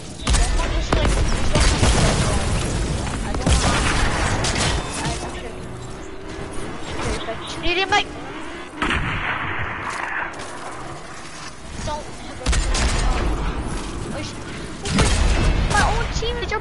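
Rapid video-game gunfire, including sniper shots, crackles in loud broadband bursts and volleys that come and go, with a quieter stretch in the middle and a voice talking over the action.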